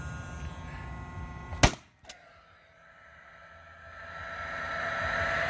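A sharp, loud pneumatic-style bang from a Paslode cordless framing nailer firing, followed by a quick second pop, then a rising hiss of exhaust air.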